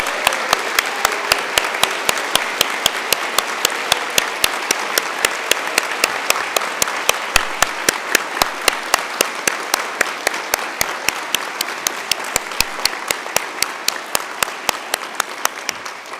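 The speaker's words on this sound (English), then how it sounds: "This is really a good moment to give yourselves an enormous round of applause." An audience at a university graduation ceremony gives sustained applause, a dense, even wash of clapping that continues steadily throughout, with a few sharper claps standing out near the microphone.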